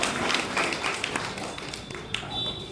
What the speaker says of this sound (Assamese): এটা ডাঙৰ হাত চাপৰি লাগিব।